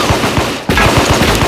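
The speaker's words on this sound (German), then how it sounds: "man weiß ja, wie man ganz normal schießt in Schulerspielen" Rapid bursts of weapon fire from the video game Teeworlds, loud and close, with a brief gap midway before the shooting resumes.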